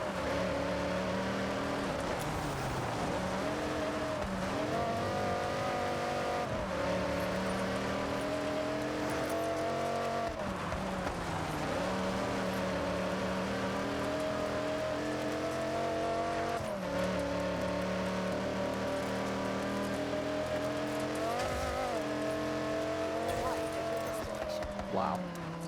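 A car engine revving hard in Forza Horizon 6, a loud sustained roar that climbs and drops through repeated gear changes and runs under a talking voice.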